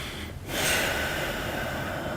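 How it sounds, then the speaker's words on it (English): A single full, deep inhale through the nose during a lizard stretch, rushing and breathy, close to the microphone and fairly loud, starting after a brief pause and held steadily for over a second. "So move forward and take a full breath."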